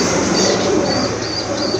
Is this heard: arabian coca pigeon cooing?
yes